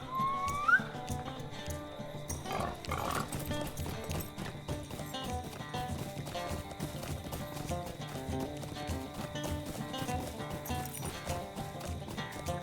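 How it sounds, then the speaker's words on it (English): A horse is ridden in the online game The Lord of the Rings Online, with steady clip-clopping hoofbeats running continuously over a dense game soundtrack and a brief whinny near the start. "Let me go ahead and hop on my horse real quick."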